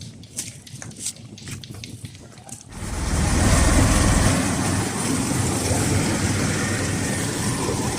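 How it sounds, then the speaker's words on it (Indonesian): A fishing boat's engine on the sea off Wotu starts up about a third of the way in, then runs as a loud, steady, broadband rumble, with quieter clatter beforehand. "Mesin kapal sudah menyala Sapo"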